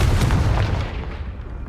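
A Confringo fire spell bursts with a heavy boom in the Hogwarts Legacy video game, a loud low blast that rumbles and slowly fades over under two seconds.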